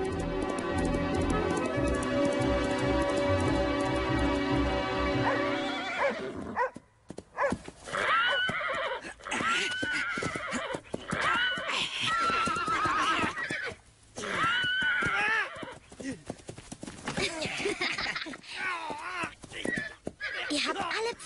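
A horse gives a long, loud whinny, followed by a busy stretch of clopping hooves mixed with other lively sounds.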